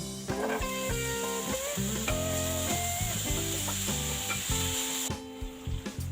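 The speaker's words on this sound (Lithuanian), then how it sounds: "kol mūsų viščiukas kepa, susidėsim čia, apsikepsim daržoves" Vegetables fry in a pan, a steady bright sizzle running beneath loud melodic background music for most of the stretch, then dropping away near the end.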